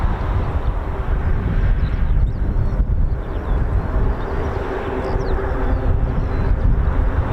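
A C-130 aircraft approaches at an air force base, its engine drone a broad, steady rumble building slowly in the distance, with no voices over it.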